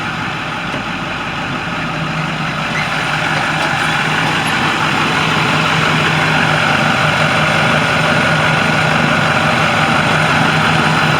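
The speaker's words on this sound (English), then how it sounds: "I want you to listen to this engine." A 2013 International shuttle bus engine idles steadily with the hood open, a continuous loud low rumble with a constant hum and no talking throughout.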